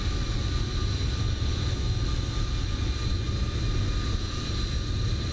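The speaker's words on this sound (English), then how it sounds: "set takeoff thrust, he goes. Rolling down the runway." An airliner's takeoff roll down the runway in Microsoft Flight Simulator produces a loud, continuous engine roar with heavy low rumble and steady whining tones, sustained without a break and with no voices.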